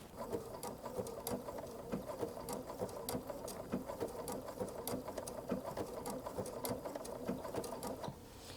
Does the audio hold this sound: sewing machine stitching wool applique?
yes